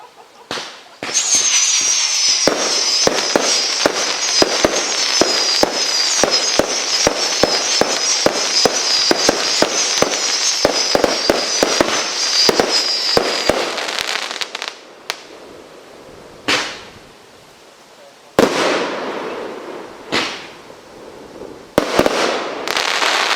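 A fireworks cake fires a rapid, loud volley of crackling bursts for about fourteen seconds at a fireworks sale-day demo, then a few last scattered bangs ring out after short pauses.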